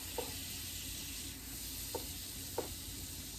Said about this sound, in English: see if we can get our butter to melt